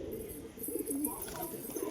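A baby pigeon gives soft, low cooing calls, faint and close, in a quiet indoor space.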